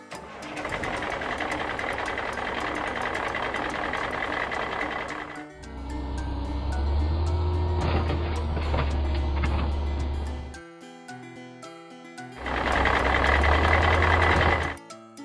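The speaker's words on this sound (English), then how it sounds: "Dump truck" A toy dump truck plays loud, whirring, rattling engine sounds alongside patterns of electronic beeping. The sections start and stop, and a repeating mechanical motor buzz returns near the end.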